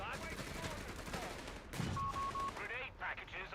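Rapid popping autocannon fire from a 250 half-track in Company of Heroes 3, a quick burst of repeated shots under a caster's voice amid battle noise.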